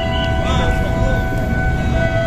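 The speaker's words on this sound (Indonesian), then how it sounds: "Tuh, keretanya mulai masuk." A KA Pangrango passenger train hauled by a CC206 locomotive rumbles in steadily, with sustained ringing tonal notes like a horn or signal bell over the heavy rail noise.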